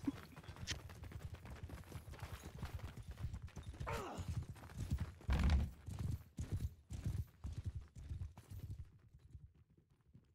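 Horses' hooves clip-clopping in the medieval combat game Mount and Blade 2: Bannerlord, a steady rapid patter of several animals trotting close by, continuous throughout with a brief louder burst midway.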